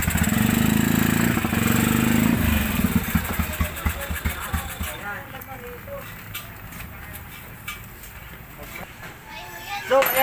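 Overhauled Yamaha Crypton motorcycle engine running at idle, loud and close at first, then settling to a quieter, uneven putter while voices talk over it.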